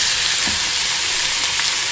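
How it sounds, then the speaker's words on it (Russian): Onions with seafood just added sizzle loudly in a frying pan, a dense unbroken hiss close up with no talking. "Лук у нас зашипел, здесь добавляем морепродукты"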